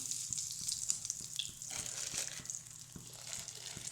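Asafoetida sizzles faintly in hot mustard oil with cumin seeds, a soft hiss spread over the whole span with a few small ticks and knocks beneath it, no voices.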